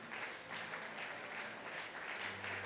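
A church congregation at a Sunday thanksgiving and praise service claps and applauds in a steady, rhythmic wave of hand claps that fills the room evenly from start to finish.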